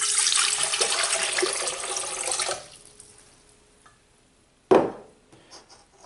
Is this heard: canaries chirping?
no